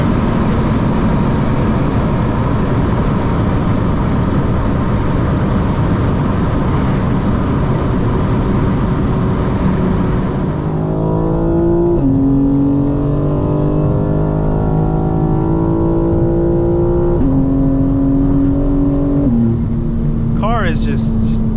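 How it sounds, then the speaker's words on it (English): A 2025 BMW M4 Competition xDrive engine roars at top speed against the speed limiter. A loud, steady drone with wind noise steps up in pitch a few times near the end. "The motor, the engine, it just sounds so healthy, so strong."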